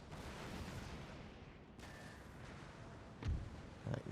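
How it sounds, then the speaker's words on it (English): Cannon fire in a Napoleon: Total War battle: a steady roar of battlefield noise with two sharp, booming shots near the end, one after the other. "While the cannon fires down the throat."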